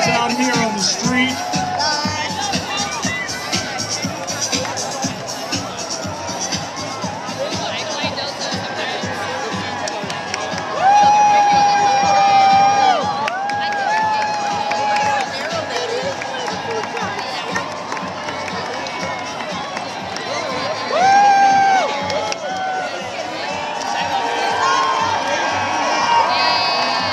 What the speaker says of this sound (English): Crowds out here on the street.